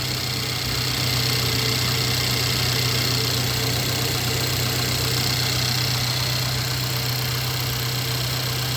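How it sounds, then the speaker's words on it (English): A car engine idles steadily while jump-starting another car with a dead battery, a low, continuous hum and faint rattling, close by and unchanging throughout with no voices. "So the car with the good battery is now running"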